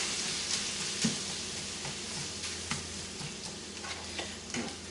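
A sausage frying in a pan gives a steady close broadband sizzle, broken by a few soft utensil clinks and light stirring scrapes, with no talking.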